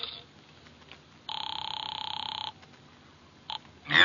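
A telephone bell rings in a single steady burst of a little over a second in a quiet room, followed by a brief faint chirp, with no voices.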